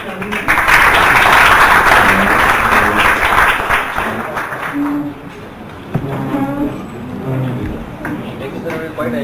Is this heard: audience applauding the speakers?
yes